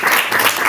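Audience at a Miss Freshman pageant speak-out event applauds the candidates, a dense, steady wash of clapping throughout the short burst with no voices over it.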